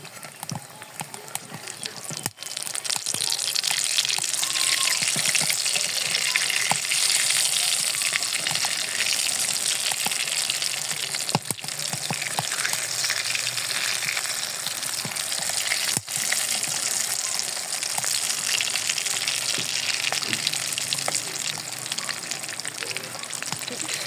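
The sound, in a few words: potato chops (aloo chop) frying in oil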